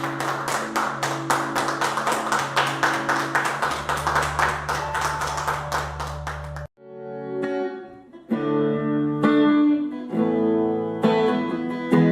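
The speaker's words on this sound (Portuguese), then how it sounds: "Uma salva de palmas para esses mártires." A church congregation at a Mevam Indaial gathering claps in a sustained round of applause over a held musical tone, then the clapping stops and gives way to bright, effects-laden instrumental music.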